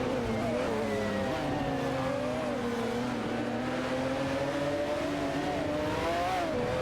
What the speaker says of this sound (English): The battle for 5p is heating up between the McLaren F1 GTR and the Bugatti